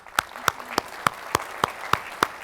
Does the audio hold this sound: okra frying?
no